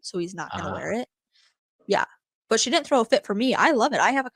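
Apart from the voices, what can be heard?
No everyday noises stand out.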